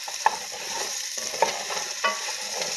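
Food sizzles steadily in a hot pan, with a few sharp scrapes and clinks of a utensil stirring at irregular intervals.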